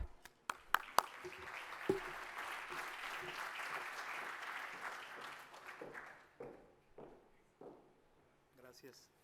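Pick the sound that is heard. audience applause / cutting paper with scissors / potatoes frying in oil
audience applause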